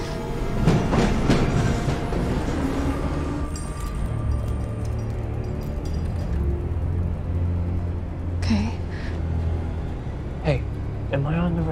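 A Metro North commuter train runs on the rails with a steady rumbling roll and occasional clicks and squeals, heard from inside the car, while people talk intermittently over the noise.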